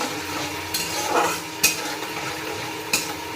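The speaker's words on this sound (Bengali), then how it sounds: "নাড়িয়ে চড়িয়ে নিচ্ছি" A spoon stirs palak paneer in a pan over a gas flame, giving a steady scraping swish over a low sizzle, punctuated by a couple of distinct metallic taps.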